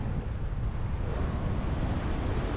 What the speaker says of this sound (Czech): Vítr tady fouká ze západu